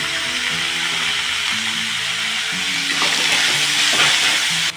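Ginger and garlic sizzle in hot oil in a pan, a continuous dense hiss with a few soft stirring scrapes near the end.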